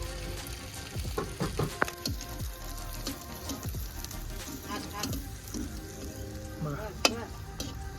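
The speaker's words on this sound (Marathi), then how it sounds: "आपण जे बनवणार आहे ना कबाब ते बघा कसं हो असं सोडायचं तेल चांगलं गरम झालेलं आहे" Green chicken kebabs fry in hot oil over a wood-fired stove on a rooftop terrace, with continuous close sizzling and crackling, scattered pops and a brief voice partway through.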